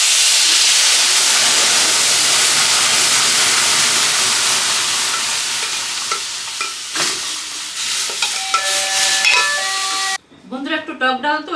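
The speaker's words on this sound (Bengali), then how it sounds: "সর্ষে দেওয়ার পরে এই আম ডালটা দিয়ে দিচ্ছি।" Mango dal poured into hot oil tempered with mustard seeds and chillies, a loud, steady sizzle and hiss that slowly fades, followed by stirring clinks and a brief ringing, tonal noise near the end.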